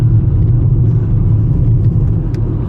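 A VW Golf 5 slowing under engine braking gives a steady, loud, low engine rumble and road hum from inside the car, with no talking.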